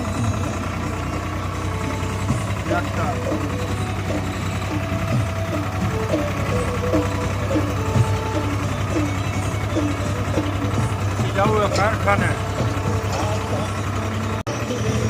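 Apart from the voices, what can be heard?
tractor engine running while driving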